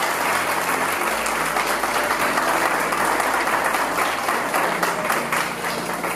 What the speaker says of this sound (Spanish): un aplauso fuerte con todo el amor del mundo